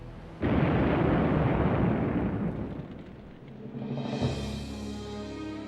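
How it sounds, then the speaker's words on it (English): A huge explosion aboard the aircraft carrier Lexington, still afloat and leaking aviation fuel, with a sudden loud broadband roar that rumbles on for several seconds before fading into a lower, rolling boom. "That evening, the Lexington, still afloat, suddenly erupted in a huge explosion."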